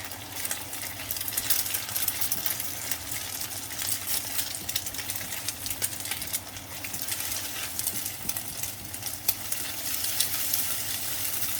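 Eggs fry with garlic in a pan, giving a steady, close hiss and crackle of hot oil that holds for the whole stretch, with no voices over it.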